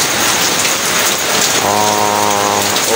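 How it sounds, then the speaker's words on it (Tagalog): Heavy typhoon rain pours down in a steady, dense hiss, loud and constant, with a faint tonal hum rising partway through. "Malakas na naman ang ulan guys."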